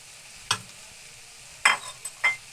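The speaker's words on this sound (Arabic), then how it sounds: "دابا انا غنزيد عليهم هاد القمرون هذا اللي كنت مشرملاه" Marinated shrimp tipped into a pan of sizzling vegetables, heard as a few short clattering stirs and scrapes against a quiet sizzling background.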